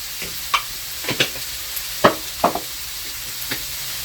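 Chicken pastilla filling with spices and cumin is stirred in a hot pan, a low sizzle running under scattered scrapes and knocks of the spoon against the pan, about half a dozen spaced strokes, close and with no voices.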